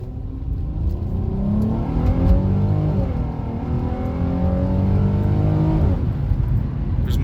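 An Infiniti G35 sedan engine accelerates smoothly, its steady hum climbing in pitch, dropping briefly at each gear shift, then climbing again, heard continuously from inside the car.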